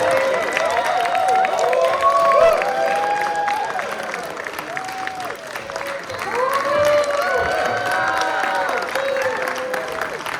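A convention audience at a Wild West costume contest cheers and applauds, sustained crowd noise and clapping with whoops and shouting voices rising and falling throughout.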